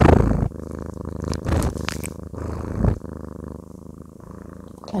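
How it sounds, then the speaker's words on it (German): A house cat purrs close to the microphone, a loud rhythmic rumbling that pulses on and off with each breath and continues steadily. "Ich kann mal ganz kurz ihren Schnurrapparat reinblenden."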